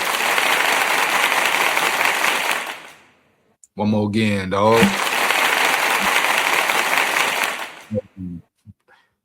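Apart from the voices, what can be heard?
applause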